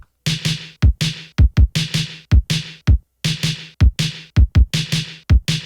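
Programmed kick drum thumps accenting repeating snare cracks in an FL Studio indie post-punk beat, deep punchy low hits landing right after bright snare strikes in a steady looping pattern, loud and dry.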